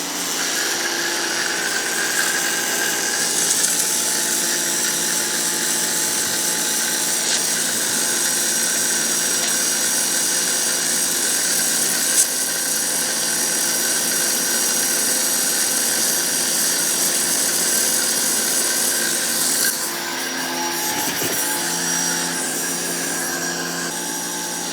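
A BIGZZIA pressure washer runs at maximum pressure, blasting stone slabs with a constant loud high hiss and a motor whine. The spray stays steady and close, with a brief change in tone near the end.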